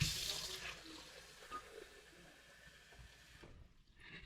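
Water runs from a tap over plantain being prepared for peanut and plantain porridge, a soft, faint, continuous splashing that trails off near the end.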